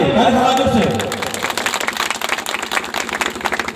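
A crowd at a World Indigenous Day gathering in Bondo, Gumla, breaks into dense, sustained clapping after a brief stretch of voice at the start, the claps loud and close.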